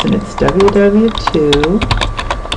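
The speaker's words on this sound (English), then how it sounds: "then I'll type in my web address" Keystrokes on a computer keyboard entering a web address in a browser, a steady run of close clicks under a voice speaking briefly.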